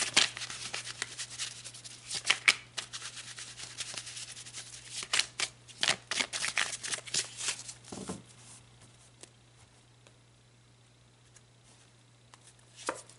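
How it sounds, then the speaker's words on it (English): Tarot cards being shuffled by hand, a run of soft papery riffles and taps over a steady low hum, busier early on and thinning to near quiet by the end. "let's pull some more cards"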